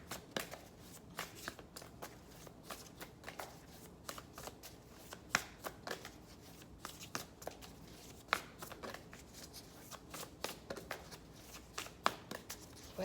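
Tarot cards being shuffled up close, with repeated riffling bursts and soft snapping clicks at irregular intervals, quiet and without talking.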